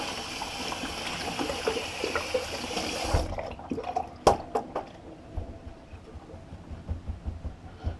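Water runs steadily from a tap for a few seconds to rinse a shaving brush, then shuts off, leaving scattered drips and small splashes.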